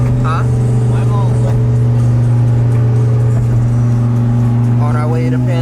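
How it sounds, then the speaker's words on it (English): Twin-turbo Lamborghini Huracán engine idling and revving with a steady low drone and rising, falling revs, close and loud, with people talking over it. "Big Lamborghini, the twin turbo."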